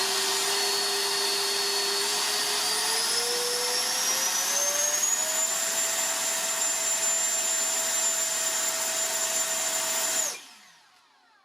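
An Arrows 50mm Hawk electric ducted fan on a 30-amp speed controller screams with a loud, steady whine. It climbs in pitch from half to full throttle, holds at full power, then cuts off abruptly and spins down.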